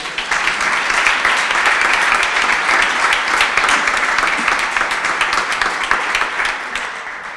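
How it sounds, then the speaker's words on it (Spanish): Audience at a poetry recital in a museum, part of a letters festival, breaking into sustained, dense applause that stays loud and steady throughout and tapers slightly near the end. "tenemos recibir con un fuerte aplauso a Paloma Tienda"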